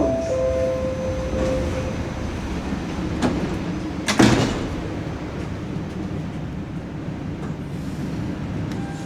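Sliding doors on a Toronto Line 1 subway train close with a brief thump and clatter about four seconds in, set against the steady rumble and hiss of the station and car.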